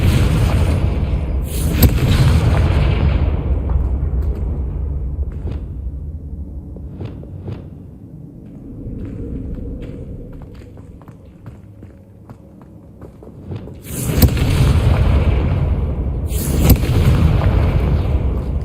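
Booming blasting-spell explosions in Hogwarts Legacy on PC, with deep heavy bursts at the start and again near the end and softer footsteps and rumble between them, loud and close.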